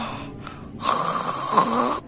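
A cartoon Ultraman character gives one voiced, drawn-out snore, close and moderately loud, probably performed by a voice actor; it cuts off abruptly after about a second.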